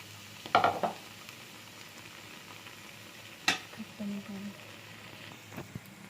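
Betel leaf bajji frying in hot oil, a low continuous sizzle with a few sharp clinks of a utensil against the pan, close and fairly quiet.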